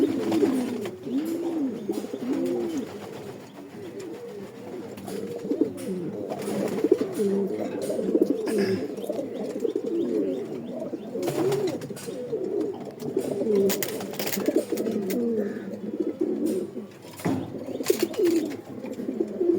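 Racing pigeons coo continuously, several birds layered in soft, rolling, overlapping calls close by, with occasional wing flutters and knocks breaking through.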